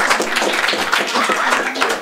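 An audience claps steadily in a dense, continuous patter of many hands, loud and close, sustained for a couple of seconds before briefly tapering.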